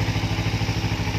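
A cold engine idles steadily at about 1000 RPM while warming up, giving a continuous, even, low rumble with a fine pulsing beat and no pauses.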